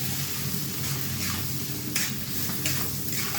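Vegetables being stirred and tossed in a pan for a home-cooked dinner, a steady scraping and sizzling bed with a few sharper clatters of the spoon against the pan, close and continuous with no talk.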